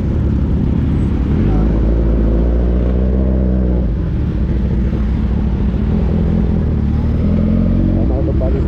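A heavily loaded motorcycle engine drones steadily the whole time with a deep low rumble on a rough road, the pitch shifting slightly as it rides along, close and loud.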